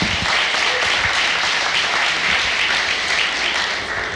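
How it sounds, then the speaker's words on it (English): Steady, dense applause from a school audience at an evening parent information meeting, a full room clapping continuously at even loudness throughout, with no voices over it. "So a round of applause for all of them."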